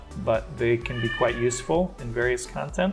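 A cat meows a few times in the background, faint and partly masked, while a person talks steadily over it.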